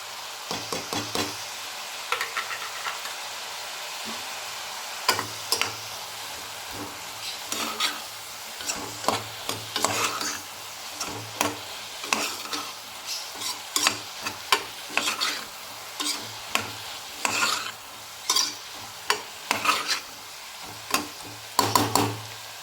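Capsicum being sautéed with ginger, garlic and chili powder for a capsicum gravy, a steady sizzle broken by repeated scraping stir strokes and clinks of a spatula against the pan, close and fairly quiet, with no talking.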